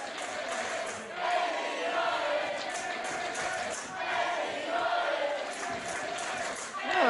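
Crowd noise at a live professional wrestling match, a sustained murmur of cheering and shouting from the audience that swells and dips over several seconds, with no clear individual voices.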